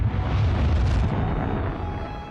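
A supernova explosion rendered as a sound effect: one continuous deep, roaring rumble that holds loud and dense for about two seconds before easing slightly, with no voices.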